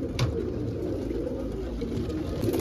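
Saharanpuri pigeons coo steadily up close, a low continuous murmur of overlapping calls with a brief sharper flutter near the start.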